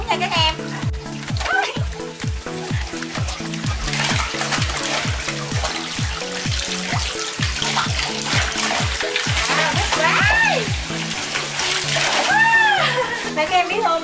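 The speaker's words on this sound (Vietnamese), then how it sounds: "Bong bóng nước đã đầy nước thì tự động rớt xuống nha các em." Water balloons filling and dropping into a backyard pool for a child's birthday give a continuous splashing and splattering under a woman's chatter, with a regular rhythmic thumping running beneath.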